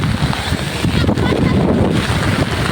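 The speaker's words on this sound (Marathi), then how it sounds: "वारा पण खूपच आहे." Strong gusting wind roars over the microphone outdoors in a village during a heavy rainstorm, a dense, loud rumble that continues for the whole few seconds with no pause.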